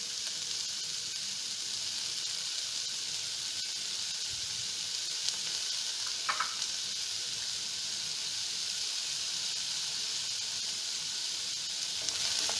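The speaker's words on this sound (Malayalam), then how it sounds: "നല്ലപോലെ മിക്സ് ചെയ്ത് കൊടുക്കാം." Onions, capsicum and salt sizzle steadily in a hot pan for a chilli beef dish, a constant close hiss with only a few faint knocks from stirring and no talk.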